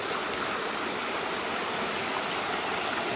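Water rushes loudly and steadily along a stream beside a riverside campsite in Padang Rengas, Kuala Kangsar, Perak, a dense continuous flow with no voices.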